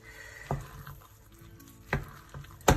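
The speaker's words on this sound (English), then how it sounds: "Heat is off, so just gently stir the pasta in" Cooked pasta is stirred gently into a homemade cheese sauce in a pan off the heat, giving soft, wet squelching and scraping with three sharper clinks of the spoon against the pan.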